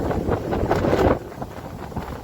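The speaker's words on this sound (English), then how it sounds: "Because the wind has suddenly picked up really, really heavily." Strong wind buffets the microphone outdoors, a dense low rumble that is loudest in the first second and then eases to a steadier, softer rush.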